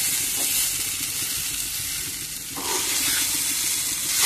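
Homemade fried rice sizzling in a hot pan while being stirred, a steady close frying hiss with soft scraping and a brief shift in texture midway as the rice is turned.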